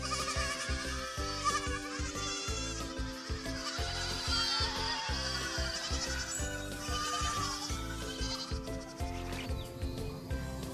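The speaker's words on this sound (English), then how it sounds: "The Angora goat is a Turkish treasure." Angora goats raised in Turkey for mohair bleat repeatedly over a steady musical backing, the wavering cries rising and falling close by.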